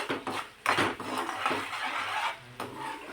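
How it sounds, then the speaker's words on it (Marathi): A utensil scrapes and clatters against the bottom of a heavy metal pan in repeated stirring strokes as sugar melts for sesame chikki, close and fairly loud, with no talking. "इथे मात्र सारखं हे ढवळत राहायचं आहे साखरेला।"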